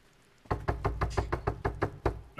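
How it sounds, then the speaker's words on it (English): A door knocked on in the horror video game The Quarry: about ten firm, evenly spaced knocks in a steady rhythm, loud and close, with no voices. "Knock on the door and no one answers."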